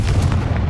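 A Confringo fire spell blast in Hogwarts Legacy, a short, loud, low booming burst with no talk.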